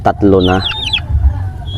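Rhode Island Red hens cluck and a Brahma rooster gives a short call nearby, with some background rustling.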